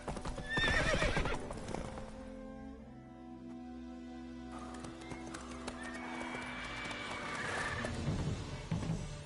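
Roach, a horse in The Witcher 3 video game, gallops with a rapid clip-clop of hooves and lets out a loud neigh near the start and again near the end, while faint background sound continues underneath.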